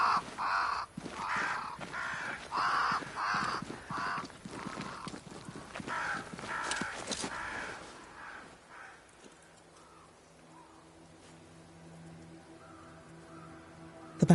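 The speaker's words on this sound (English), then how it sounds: "Crows. They flock to that great tree up there." Crows caw in a rhythmic series of harsh calls in the video game Banishers: Ghosts of New Eden, fairly close, then fade away, leaving a quiet low ambient hum with soft scattered sounds.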